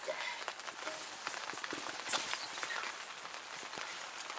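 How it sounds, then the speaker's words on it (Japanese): Rain patters steadily outdoors on a farm, a dense hiss of drops with scattered sharper taps on a hard surface, fairly faint and continuous, with no one talking. "雨降ってきたね。"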